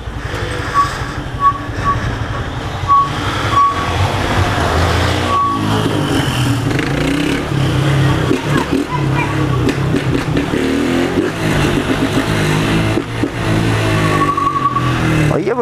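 A blue 2023 Honda Fan 160 motorcycle with a tin-can exhaust and no air filter runs loud and rough in a favela, a continuous harsh engine roar with revving surges, close to the listener, with occasional talk underneath.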